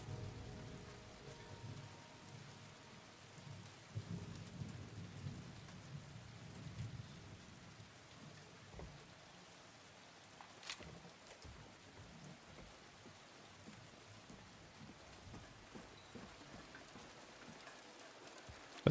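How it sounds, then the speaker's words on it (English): Steady rain pours down in the Silent Hill 2 game, a dense hiss of drops on surfaces with low rumbling thunder beneath and a few sharper cracks, continuous throughout with no talk. "It's because it's raining?"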